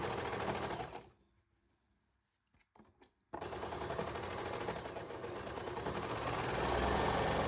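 A sewing machine stitches jersey panels for a tank top, its rapid steady hum running loud and close, breaking off into near silence with a few short bursts before resuming as a continuous drone to the end.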